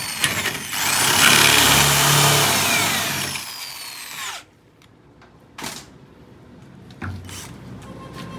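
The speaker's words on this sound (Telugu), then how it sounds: "ఇది ఊసిపోకుండా స్క్రూ వేసుకో, అంటే హోల్ వేసి మళ్ళీ స్క్రూ వేసుకుంటాం." A power drill bores screw holes into an aluminium bathroom door frame, a loud whining run lasting several seconds before stopping, followed by quieter handling knocks and a couple of short bursts.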